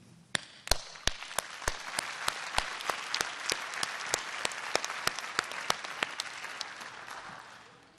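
Graduation commencement crowd of friends and family clapping, with dense steady applause and sharp individual claps standing out near the listener, gradually thinning toward the end.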